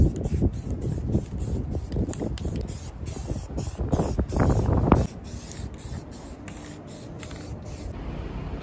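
Car control arms for a 1996 Chevy Impala SS get spray painted, a continuous close hiss of the spray can with a short louder burst before it thins to a quieter steady hiss.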